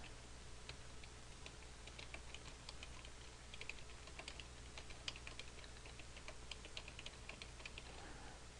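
Quiet, rapid tapping on a computer keyboard, with irregular bursts of small clicks over faint background hiss, no voice present.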